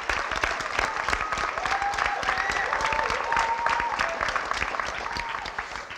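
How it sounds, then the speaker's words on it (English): Sustained applause from an audience at an adult education graduation ceremony for the class of 2019, steady dense clapping filling the hall for several seconds with no talk over it. "Let's give the class of 2019 a round of applause."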